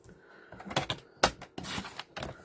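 Cardstock being cut to size with a paper trimmer for an Easter card, a few short scraping swipes and clicks spread over two seconds, close and moderately loud, with no talking.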